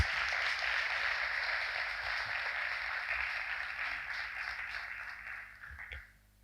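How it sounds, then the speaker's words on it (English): Steady round of applause from a school audience for two debate teams, dense clapping holding for about five seconds and then fading out. "I request her to give a round of applause to both of these teams."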